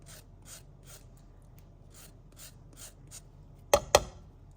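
A lemon is rubbed against a zester in quiet, evenly spaced rasping strokes, about eight of them, before two sharp, loud knocks close the sequence.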